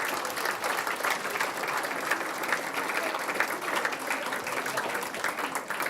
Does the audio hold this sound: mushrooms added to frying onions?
no